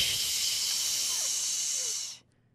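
A voice imitates a burger sizzling on a restaurant flat-top griddle: one loud, continuous hissing breath lasting about two seconds before it cuts off abruptly.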